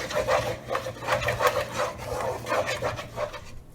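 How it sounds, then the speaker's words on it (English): A spoon scrapes and rubs rhythmically through thickening playdough mixture cooking in a pot on a stovetop, a close, steady stirring with repeated strokes and no talk. "I have to keep stirring, and I have to cook until it gets thick and becomes like a dough"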